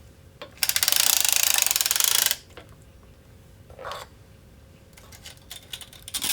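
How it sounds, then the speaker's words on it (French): A hand-cranked circular knitting machine with cylinder and ribber needles gives a loud, dense burst of rapid mechanical clatter lasting over a second, followed by scattered clicks and short ratcheting sounds, close up and with no talk. "cette pièce est entraînée par la manivelle et va permettre de sortir les aiguilles, attraper la laine et les re-rentrer pour former la maille"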